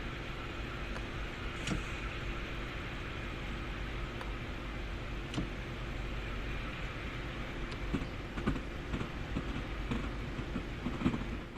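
Electric rapid transit train in the Train Sim World: Rapid Transit video game running steadily, with a continuous low rumble, faint rail clicks and occasional clacks throughout.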